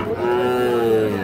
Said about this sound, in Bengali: এই দেখছেন যে শাহিওয়াল ষাঁড় বাছুর।